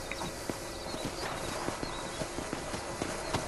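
Horse hooves clip-clop in the Red Dead Redemption video game, a steady, rhythmic run of close, crisp hoofbeats on firm ground with no talking.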